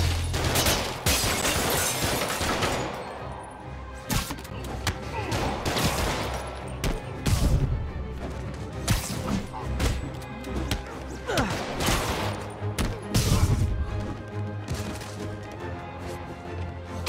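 Rapid gunfire bursts from the video game Marvel's Spider-Man Remastered played on mobile, loud and dense with crashes and impacts layered throughout, mixed with game voices.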